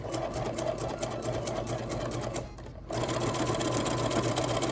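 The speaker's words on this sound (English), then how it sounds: "go ahead and sew the other side" A sewing machine stitches the side of a fabric face mask in a rapid, steady mechanical chatter, pausing briefly midway before resuming at full pace; close and loud, with no talking.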